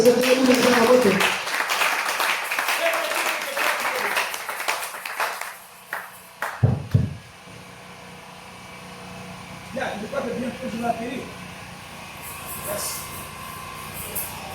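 A church congregation applauds to acclaim the Lord, with loud sustained clapping that fades out after several seconds. Scattered thumps and room noise follow, with voices.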